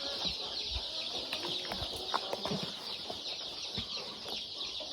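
A group of young chicks cheeps and clucks at close range in a continuous busy chatter while they drink vitamin water, with scattered soft pecking and wing flutters.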